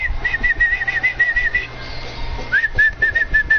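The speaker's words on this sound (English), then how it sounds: "Whistles going everywhere" Referee whistles shrill repeatedly during a basketball video game with the Lakers: a run of quick trilled blasts, a short gap, then another sustained series, loud over a steady background din.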